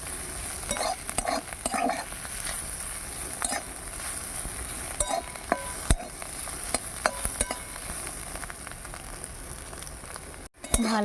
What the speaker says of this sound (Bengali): করে ভাজা ভাজা করে নেওয়া হয়ে গেল